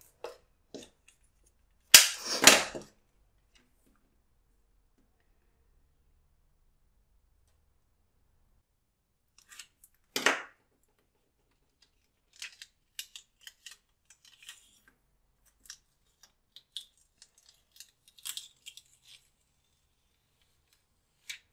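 Scissors trimming adhesive vinyl during reverse weeding, heard as a loud snip near the start, a second cut midway, then a run of small, quiet clicks and rustles.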